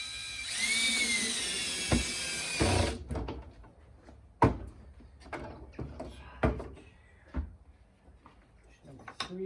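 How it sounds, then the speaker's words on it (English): Phillips head screws being driven into a Flow Hive 2 leg kit, starting with a steady power-driver whir, then a series of sharp knocks and clicks at uneven intervals, close up. "put all our Phillips heads screws in here"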